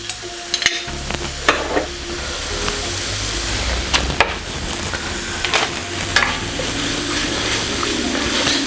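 Two cloves of garlic are stirred in a sizzling frying pan while beef stroganoff is cooked, with a steady frying hiss and several sharp scrapes and clinks of the utensil against the pan, close by, with no talking.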